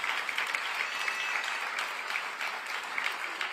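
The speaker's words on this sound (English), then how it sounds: "y'all clap right there." An audience at a public gathering honoring a mayor breaks into steady applause, a dense even wash of many hands clapping at moderate distance throughout, with no talking over it.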